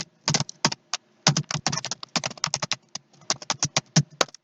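Code being typed on a computer keyboard, rapid close clicky keystrokes in uneven bursts with brief pauses, no voices.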